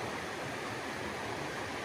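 Stream water runs at a dispersed campsite in Olympic National Forest along the Hamma Hamma, a steady, dense rushing wash that fills the brief moment without pause or voices.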